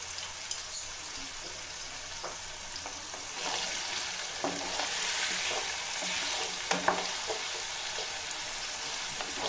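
Sliced raw banana sizzles and fries in oil in a nonstick pan while a wooden spatula stirs it, giving soft scraping and occasional clicks over a steady quiet crackle.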